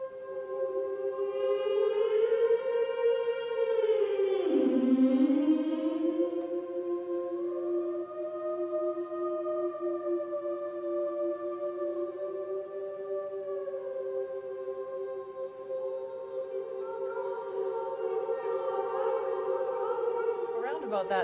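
A choral performance, sustained voices holding long harmonic tones that swell, bend and glide in pitch, full and steady throughout with a brighter cluster of voices entering near the end.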